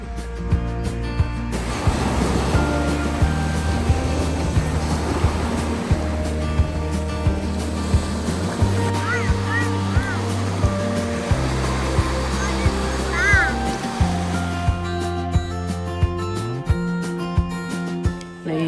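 Ocean waves wash continuously onto a beach on Prince Edward Island, a loud, steady surf roar with music playing over it throughout.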